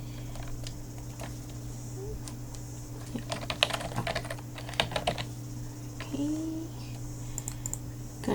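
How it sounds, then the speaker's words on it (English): Keys on a computer keyboard are tapped in quick, irregular bursts of clicks, close and fairly crisp, over a steady low electrical hum, with pauses between runs of typing. "I'm just going to type my website."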